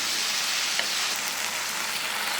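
Brinjal, onion and tomato with a little turmeric sauté over a medium flame for brinjal chutney, a soft, steady, close sizzle with faint crackles and no talking.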